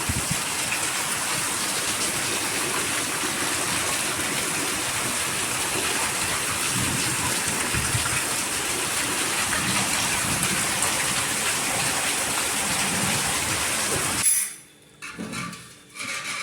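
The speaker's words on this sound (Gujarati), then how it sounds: "જો ફૂલ વરસાદ ચાલુ થઈ ગયો છે." Heavy rain pours down steadily and loudly for about fourteen seconds, drumming on surfaces as runoff feeds a water tank through a pipe, then drops away abruptly near the end.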